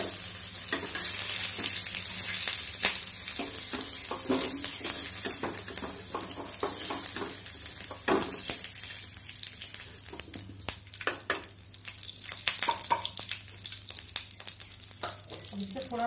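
Moringa drumsticks fry in oil in a pan, giving a steady close sizzle with scattered clicks of stirring and spatula scrapes throughout, with no talk.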